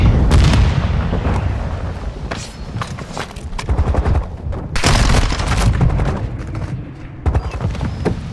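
Vaznev rifle fire in a video game: loud, dense automatic bursts with booming impacts and explosions, barely pausing over several seconds.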